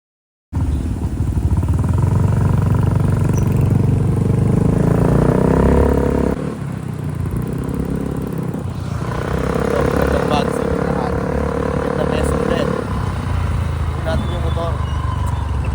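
A motorcycle engine runs loud and close on a trip toward Divisoria in Manila, rumbling with shifts in pitch as it speeds up and settles, while voices talk over it.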